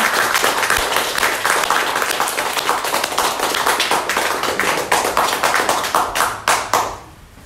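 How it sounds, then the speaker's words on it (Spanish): A gathered congregation at a prayer novena to Santa Muerte breaks into loud, dense, continuous clapping that thins into a few final claps before stopping abruptly. "Damos un fuerte aplauso a nuestra Santa Muerte."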